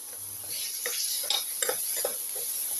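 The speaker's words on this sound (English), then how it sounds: "Saute the tomato pieces." Tomato pieces sautéing in a pan, a steady soft sizzle broken by a few scraping stir strokes near the mic, with no voices.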